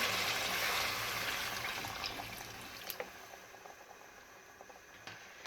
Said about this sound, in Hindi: तो मैं इसमें 3 से 4 कप जो है वो पानी शामिल करूँगी